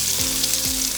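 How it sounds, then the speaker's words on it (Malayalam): Chopped onion frying in ghee with garam masala makes a close, even hiss of sizzling, with a couple of brief low sliding tones from the pan mixed in. "ഇതിലേക്ക് നമുക്ക് കുറച്ച് ഓണിയൻ കട്ട് ചെയ്ത് ഇട്ട് കൊടുക്കാം"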